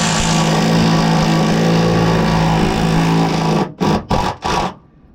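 A powered rivet nut gun tightens a riv nut while installing a water tank and diesel heater in a VW Transporter T6: a loud, steady motor whir runs for a few seconds, then breaks into three short bursts before stopping.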